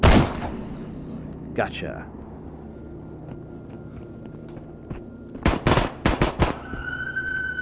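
Gunfire in a Quest 2 VR shooter: a sharp shot at the start, then a quick cluster of several loud, close shots near the end, with someone talking and a brief electronic tone.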